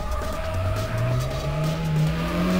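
A car spins out and skids in the racing game Need for Speed High Stakes, its engine droning and tires squealing in a long sliding tone that climbs slowly in pitch, loud and continuous.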